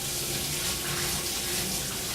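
Hands rinse under a running kitchen faucet, giving a steady, close, broad rush of water with no pauses.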